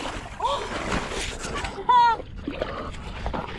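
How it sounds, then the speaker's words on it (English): A person slipping into the water while fishing for chain pickerel in Maryland makes a brief splash and slosh, set among excited voices talking outdoors. "I slipped in the water."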